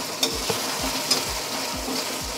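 Besan pakoras go into a pan of masala that is already frying. A steady, close sizzle runs throughout, broken by a few soft stirring clinks and low rhythmic thumps.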